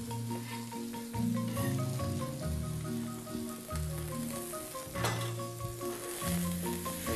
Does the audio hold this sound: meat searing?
yes